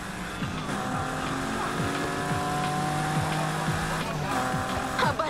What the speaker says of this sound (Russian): Обожаю звук этого движка.